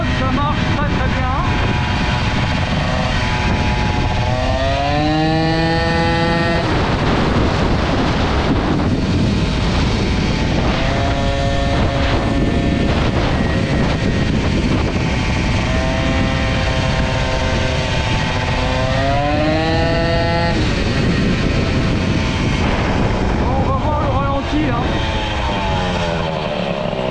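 Peugeot 103 moped fitted with an Airsal 65 kit, its two-stroke engine buzzing loudly and revving up and down in rising and falling whines, heard close through heavy wind noise with a voice talking over it.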